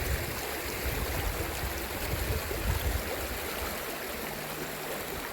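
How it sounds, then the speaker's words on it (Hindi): Water rushes fast through a cut channel on a sloping hillside at Wiyala Duki, a continuous loud, churning flow close by with no pauses and no talking. "यहाँ से पानी बहुत तेज़ी से पास हो रही है।"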